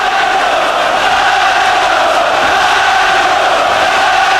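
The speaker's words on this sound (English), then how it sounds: "Crowd trying to urge Ben on with chants of Nigel, Nigel." A boxing arena crowd at a 1996 WBO super-middleweight fight chants Nigel's name for Nigel Benn in a sustained, loud, roaring wall of voices. The chant continues without pause throughout.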